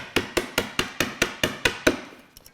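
Chiselling wood for a hand-built bookcase: nine sharp, evenly spaced mallet strikes on a chisel land in quick succession, close and crisp, then a faint trailing tap.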